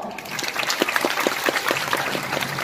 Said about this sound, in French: Allez, on applaudit tout le monde.